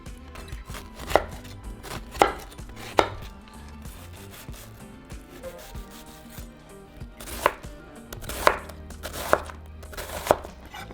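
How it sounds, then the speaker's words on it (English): A knife chopping vegetables on a cutting board while prepping for steak and shrimp tacos, sharp distinct chops in short bursts of three or four with quieter gaps between, close and clear with no talking. "we are ready to move on and cut our vegetables"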